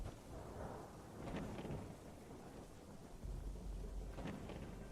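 Rain and rolling thunder in the video game Fallout London, a steady wash of rainfall under low, rumbling thunder swells, faint and continuous with no voices.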